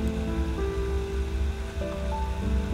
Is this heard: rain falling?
yes